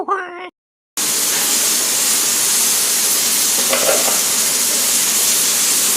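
A pressure cooker cooking rajma for Punjabi-style rajma chawal lets out its whistle as a loud, continuous steam hiss lasting several seconds. A person speaks briefly just before it starts.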